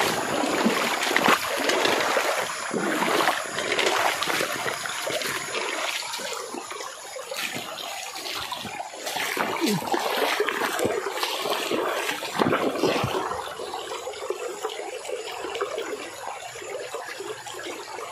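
Water bubbling and gurgling close by, a continuous churning wash broken by frequent small pops and splashes that rise and fall in irregular bursts.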